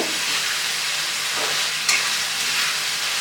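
A rohu fish head fries in a pan with a steady, close hiss of sizzling oil that runs throughout, with a faint stirring scrape partway through.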